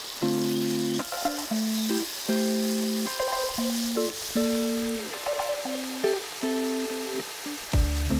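Thinly sliced food fries in a pan for breakfast bruschetta, giving a steady soft sizzle throughout under louder tonal background music.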